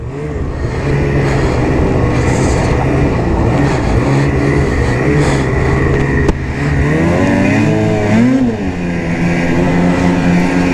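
A 2020 Ski-Doo Backcountry XRS snowmobile engine drones loudly and steadily while being ridden, with the pitch rising and wavering near the end as the throttle changes.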